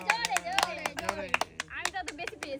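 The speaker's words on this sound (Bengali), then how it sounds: "জোরে হাততালি দাও।" Children clap their hands during a family sand treasure-hunt game, a quick run of sharp, uneven claps mixed with excited voices.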